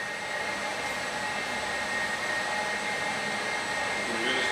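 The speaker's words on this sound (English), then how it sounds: "we put them through the grinder over here" A cocoa nib grinder runs at a chocolate factory in Reykjavik, giving a steady, loud mechanical whir with a constant high whine and no pauses, heard alone without talk.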